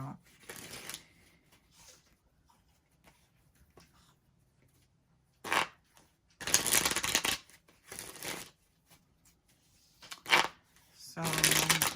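Tarot cards being shuffled by hand, with several bursts of riffling and rustling of varying length separated by short pauses, close and moderately loud, with no talking.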